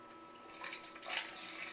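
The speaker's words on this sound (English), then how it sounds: "So we're just going to pour through to make sure there's no big chunkies." Homemade apple cider vinegar poured through a strainer makes a quiet, brief liquid splash and trickle in two soft bursts.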